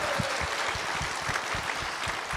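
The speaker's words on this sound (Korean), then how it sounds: "자, 박수로 격려하겠습니다" Dense, steady applause from a Korean church rally audience, continuous clapping filling the hall at moderate level with no voices over it.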